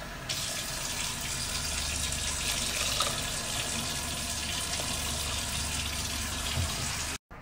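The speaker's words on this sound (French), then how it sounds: "Donc là, vous mettez l'eau. Mettez au moins la moitié." Water runs into a cooking pot being filled about halfway before vegetables go in. A steady gushing stream continues for about seven seconds and then stops abruptly.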